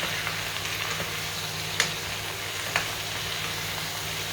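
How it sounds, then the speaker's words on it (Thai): Vegetables stir-frying in a pan for pad mee sua, a steady low sizzle throughout with a couple of brief scraping stir clicks, no voices. "เราต้องผัดไปจนผักสุกค่ะ"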